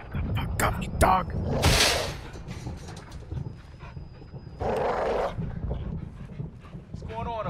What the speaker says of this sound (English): It's the dog from the bedroom.